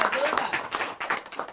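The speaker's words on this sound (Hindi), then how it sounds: "जोरदार तालियों से स्वागत कीजिए। तालियों में प्लीज कंजूसी मत कीजिएगा।" An audience claps at a film audio launch event: a short, dense burst of applause with a voice speaking over it.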